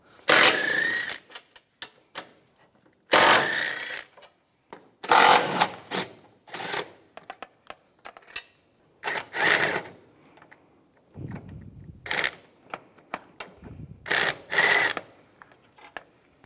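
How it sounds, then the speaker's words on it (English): A 13mm socket wrench ratchets bolts off the intake manifold of a 2004-2010 BMW X3, in a series of loud, close bursts of rapid clicking separated by short pauses. "take these bolts off on both sides using a 13mm socket"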